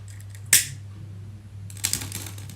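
A lighter being struck and lit, one sharp click-and-spark snap followed later by a softer rasping flick, over a steady low hum.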